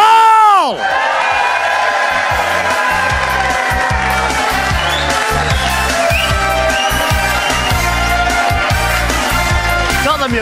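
A packed concert audience screams, whoops and cheers loudly for a performer coming on stage, with continuous crowd roar and a pulsing rhythmic beat underneath throughout.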